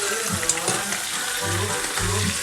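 Floured fish fries in hot oil for Jamaican escovitch, a steady close sizzle and crackle with brief louder bubbling surges and no talk.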